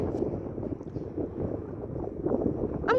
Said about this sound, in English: I'm gonna finish because it's really windy